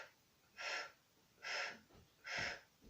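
Three slow, even breaths sound out during a guided exercise, each a soft airy rush lasting about half a second, close and quiet, with brief pauses between them.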